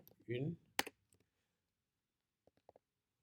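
Several soft keyboard clicks on a computer keyboard, sparse and close, coming after a brief burst of speech, with long quiet gaps between the keystrokes.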